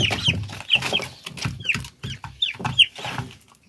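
Chickens clucking close by in a coop where young chicks are kept, a steady run of short clucks and squawks with repeated sharp higher calls, with no talk over them.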